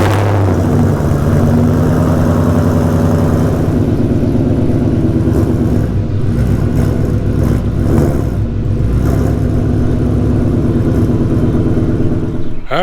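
A Ford Mustang GT500 fitted with a 777 Performance bumper idles and pulls into a driveway, its engine a loud, steady, close rumble that swells slightly as it creeps forward; no voices.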